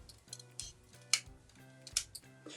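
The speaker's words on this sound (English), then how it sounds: "I'm just going to take my micro tip scissors and I'm just going to cut off the Island Waters colored tents from this border" Micro tip scissors snip through a paper scrapbooking border, cutting out tent shapes; a few crisp, quiet snips and clicks come close and alone, with faint handling between cuts.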